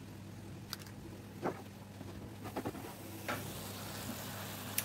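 Blueberries simmering into syrup in a black frying pan for a quick apple and blueberry pie give a soft, steady sizzle with a few brief clicks and stirring scrapes, moderately close and heard alone.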